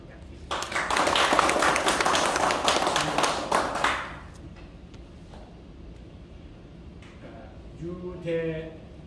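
Audience applause at the founding general meeting of an association: a burst of close hand clapping that lasts about three seconds and dies away, with a voice speaking afterward.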